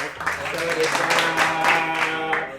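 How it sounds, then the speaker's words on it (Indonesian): An audience claps to welcome two guests onto a talk show set about flight attendant careers, a brief burst of steady applause with a low hum and voices faintly underneath. "Tepuk tangan dong."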